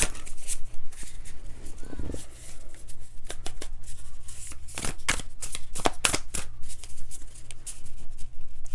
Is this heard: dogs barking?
no